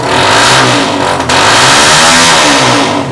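A motorcycle engine revs loudly up close, rising and falling in pitch with a brief dip in the middle.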